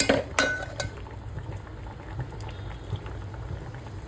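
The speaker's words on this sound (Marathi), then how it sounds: "आता आपण ह्याच्यामध्ये मटण टाकायचं आहे." Mutton dropped into a pot of bubbling dal gives a few sharp clatters and splashes at the start, then settles into a soft steady simmer of boiling liquid with faint metallic taps.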